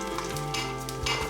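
Cashews sizzling in hot oil in a pan, a close steady crackling fizz with faint stirring, no talk.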